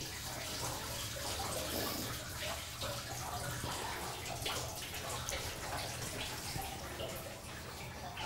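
Water pours steadily into a tilted tub, a continuous splashing, gurgling flow with broadband hiss, close and fairly loud throughout.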